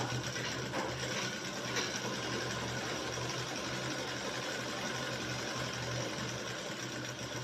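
Sewing machine stitching a shirt collar band, a continuous close motor hum with steady mechanical chatter running unbroken at an even level throughout.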